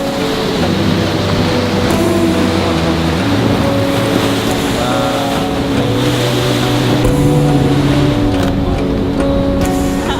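Ocean surf rolls in at a San Diego beach with a loud, continuous roar, and a low engine-like drone with shifting tones runs underneath the whole time.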